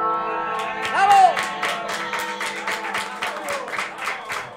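Applause from an audience mixed with a bright sung or shouted voice near the start, then a run of crisp, fairly regular claps over a sustained tonal background, moderately loud and close.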